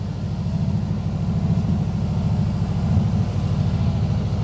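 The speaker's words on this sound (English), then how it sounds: "You can hear the exhaust tone, the boxer motor." Close and loud, a Subaru boxer engine in a 1970 VW Beetle with a full custom exhaust idles in a steady, throbbing low burble without voices.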